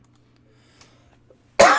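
A single sudden cough bursts out close to the microphone after near silence, loud and harsh.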